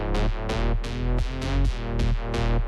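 A bright synth lead from a producer's new single plays a repeating rhythmic pattern of sustained, harmonically rich notes with sharp attacks, loud and alone.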